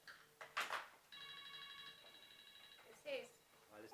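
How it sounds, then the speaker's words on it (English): A phone rings in a cafe during a conversation, a steady electronic tone lasting under two seconds, faint beneath nearby voices. "if that'll be someone's phone."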